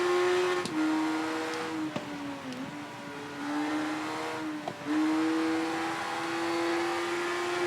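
A motorcycle engine in the racing game Ride 3 holds a steady, buzzing whine that dips sharply a few times under heavy braking before climbing back, with no talking.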